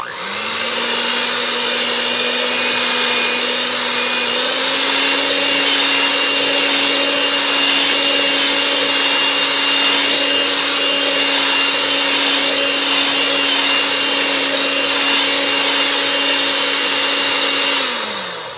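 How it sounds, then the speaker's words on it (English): A stand mixer fitted with a whisk attachment whips cake batter at medium speed, a steady loud motor whine that holds throughout and rises slightly in pitch partway, then winds down at the end. "I am using my whisk attachment, so not the regular beaters"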